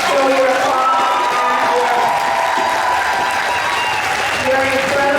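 Audience applause honoring Ursula Jacko at an International Women's Day event, a steady dense wash of clapping from a large crowd, with a voice talking over it throughout.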